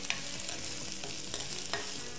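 Spring onions sizzle in hot oil in a pan, a steady soft crackle broken by a few light scraping stirs, close and fairly quiet with no voices.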